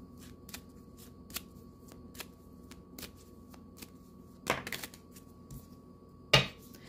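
Tarot cards being shuffled by hand indoors, a run of crisp, close riffling snaps and flutters with a few louder bursts near the end, heard alone without talk.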